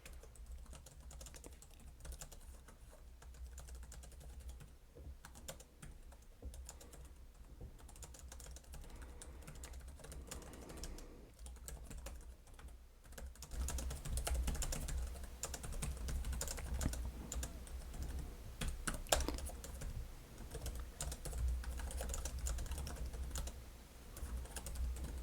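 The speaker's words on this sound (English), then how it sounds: "We'll start with the keyboard. It's a ThinkPad keyboard." Typing on a Lenovo ThinkPad P16v Gen 2 laptop keyboard, a soft, quick, continuous patter of key presses, quiet and close, picking up slightly in the second half, with no talking.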